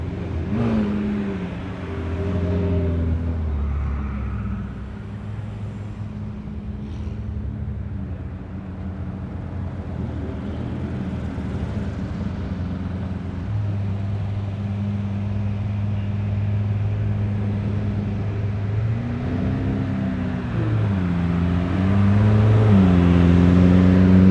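Engines of a Monopoly-wrapped Nissan GT-R and a wrapped Mercedes rumble at the Gold Rush Rally in Scottsdale, a steady low drone with rising and falling revs that grows louder toward the end.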